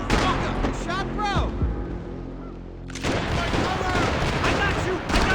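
Rapid bursts of video game gunfire crackle loudly through a busy, chaotic mix, with brief gaps, while excited voices shout over the shooting.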